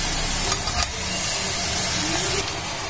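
Vegetables and chopped tomatoes are stirred in a hot cooking pan, a soft continuous sizzle with scraping strokes of the spoon, fairly close and steady throughout.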